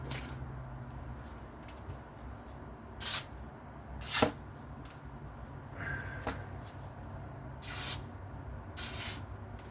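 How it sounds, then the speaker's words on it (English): An S30V steel Spyderco Manix 2 knife blade is sharpened to a working edge. Faint, scattered, hissing strokes come in short bursts with pauses between them over a quiet background. "that was the sharpening of the S30v non-lightweight Manix 2"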